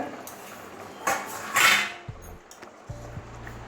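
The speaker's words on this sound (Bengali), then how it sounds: "এবারে ঢাকনাটা খুলে দেখছি আমার আলুটা কতটা সিদ্ধ হয়েছে" A metal lid clanks and scrapes as it lifts off a cooking pot of boiling potatoes for a bitter gourd and prawn dish, a short bright clatter followed by quieter clinks and low hums.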